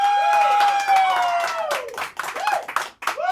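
Comedy open mic crowd applauding comedian Ben: a loud, sustained whoop from the audience rides over scattered close clapping, then breaks into shorter hoots and cheers as the clapping continues.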